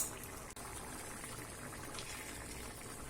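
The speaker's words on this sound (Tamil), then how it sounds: "இது நல்லா ஒரு கொதி வரட்டும். இப்போ நல்லா கொதிச்சு வந்துடுச்சுங்க." Chana masala gravy simmers in a pot, giving a faint, steady bubbling with soft liquid gurgles throughout, quiet and close.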